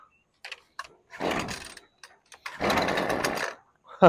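A pressure washer's small gas engine is pull-started on choke after sitting unused, with two long rasping recoil-cord pulls and short sputters between them, each pull close and loud, and a brief final pop at the end.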